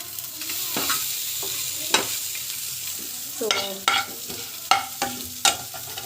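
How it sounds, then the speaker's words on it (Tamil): Onions frying in a pan for a simple high-protein pregnancy recipe, a continuous close sizzle broken by repeated sharp scrapes and knocks of a spoon stirring. "இந்த மாதிரி லைட்டாக வந்து ஃப்ரை ஆகணும்"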